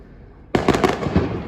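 Fireworks at a castle display on Bonfire Night in Lancaster, a sudden loud burst of crackling explosions starting after a quiet moment and continuing in rapid overlapping pops and booms.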